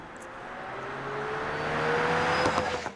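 A 1949 Mercury coupe rebuilt by ICON as the Derelict electric conversion drives past, a steady rising motor and road rush swelling nearer then cutting off, no engine note.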